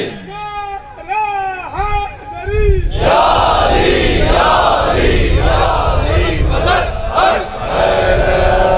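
A large crowd at a religious gathering chants slogans in loud unison, answering a lead voice in repeated rhythmic shouts that swell and fill the space after a brief call.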